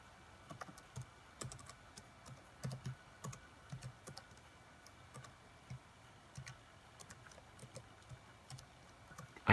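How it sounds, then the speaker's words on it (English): Fingers type on the keyboard of an iBook G4 laptop, giving a quiet, close, irregular run of light key clicks in short bursts. "We'll just type this in."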